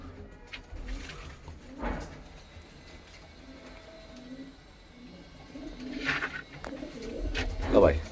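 Lal Cheena pigeon gives low, intermittent coos close by, mixed with shuffling handling noises and a brief louder rustle near the end.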